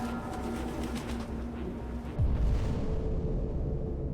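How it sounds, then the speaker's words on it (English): Pigeons coo in a run-down building in the video game Detroit: Become Human, a low steady murmur over constant ambient noise, broken partway through by a sudden heavy thump. "Pigeons. Lot of pigeons."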